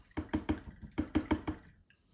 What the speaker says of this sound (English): now we're gonna wash out the brush